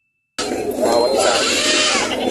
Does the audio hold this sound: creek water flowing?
no